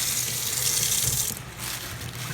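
Tap water runs steadily into a kitchen sink, a continuous hissing stream that briefly dips and resumes, with no voices over it.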